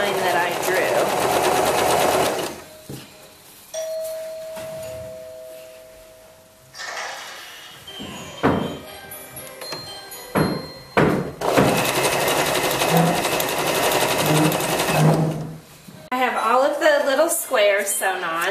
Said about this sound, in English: So now I'm sewing them on, and I'm going to just do chain sewing.